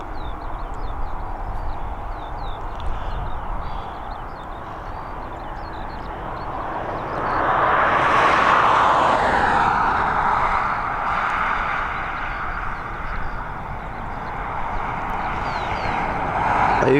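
An airplane climbing away from runway 10R at Dublin Airport, a broad, steady jet roar that swells to a peak midway and then holds loud as it recedes, with no talking.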